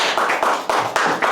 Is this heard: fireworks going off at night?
no